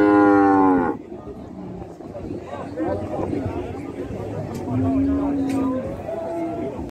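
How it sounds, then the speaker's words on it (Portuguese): A pregnant dairy cow on a farm moos loudly up close, one long low call at the start followed by a second, quieter moo, with people talking around it. "Vaquinha é o quê? Essa vaca tá chetada."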